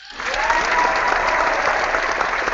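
A studio audience claps briefly in a show episode: a quick swell into steady, crowded applause that holds for a couple of seconds with no one talking.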